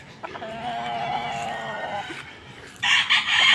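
Chickens and roosters at a poultry farm, a rooster crowing loudly and bright layered calls from the flock rising sharply near the end, several birds close by.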